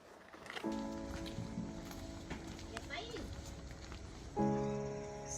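Two-wheeled rototillers chug through a riverside Vietnamese village below cliff faces. A steady, close engine drone runs for a couple of seconds, drops away, then returns loudly near the end.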